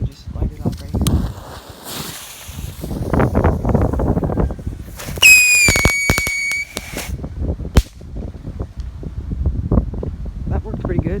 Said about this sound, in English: But instead this has little crackle stars in there you can see right there